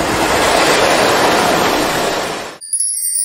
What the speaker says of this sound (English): Electric train.